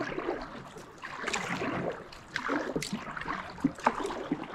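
Oars dip and pull through the water as a rowing boat races a kayak near a Swiss island, giving soft, irregular splashes and gurgles close by at a quiet level.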